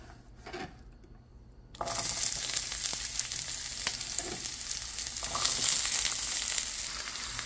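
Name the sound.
onions frying in coconut oil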